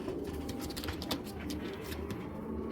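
Racer pigeons cooing in a loft, soft low repeated coos close by, with a few faint bird calls and light background noise.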